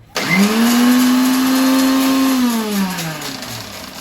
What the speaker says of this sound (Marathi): ह्याला असं हलवायचं त्याच्यानंतर हे मिक्सरमध्ये असं फिरवायचं हे बघा